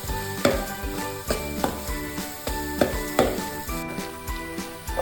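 Ingredients sautéing in a pan while Kerala-style fish mappas is being cooked, before onions go in: a steady, close sizzle broken by rhythmic stirring scrapes, with faint tonal background sound and no talking.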